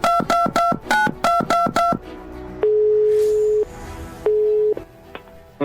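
A telephone call is dialed: a quick run of keypad tones in bursts, then long steady ringback tones with pauses between them, loud and clear with no talking.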